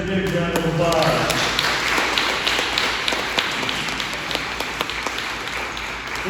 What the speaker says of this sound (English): let's give these students an extra big round of applause